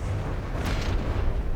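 A CRAM cannon firing in From the Depths gives a deep, sustained rumbling boom, loud and heavy in the low end with a faint crackle partway through, no talking.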